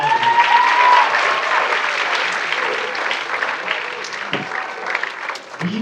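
An audience at a writers' week reading event gives a final round of applause, a thick, steady roar of clapping that thins a little near the end.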